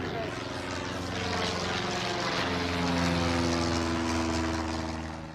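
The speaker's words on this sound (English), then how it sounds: "Flight attendant, prepare for takeoff." A propeller airplane roars loudly and continuously as it takes off, a dense, droning engine sound with steady low hum that swells slightly toward the middle and eases at the end; no talk.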